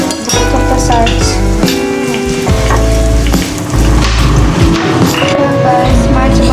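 A chapati cooking in banaspati ghee on a pan, giving a close, continuous sizzle and crackle with a tuneful background layered over it throughout.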